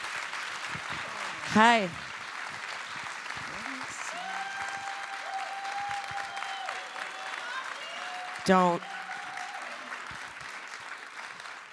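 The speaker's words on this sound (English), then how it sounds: "Let's just do 1 hour and 30 minutes of clapping like that." Audience applause for Pamela Adlon at a masterclass event, a steady wash of clapping running throughout, with voices talking and calling out over it and two brief louder bursts.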